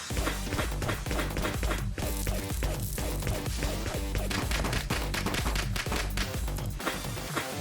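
Rapid cartoon gunfire from an animated Italian brainrot-style scene: dense, continuous bursts of sharp cracking shots, loud and unbroken throughout.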